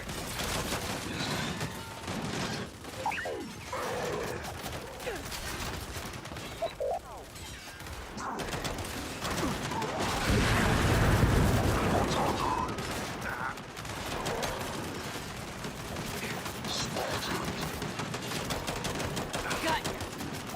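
Sustained automatic turret gunfire in the Gears 5 video game, a dense loud fusillade of overlapping bursts running throughout, mixed with battle sounds and shouted voices.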